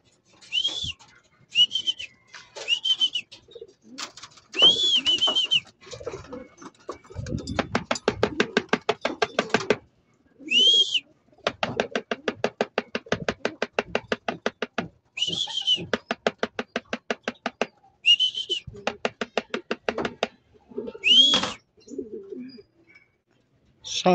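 Pigeons at a racing loft coo and whistle in repeated phrases, with long stretches of fast fluttering wingbeats as birds take off nearby; someone speaks softly in the background.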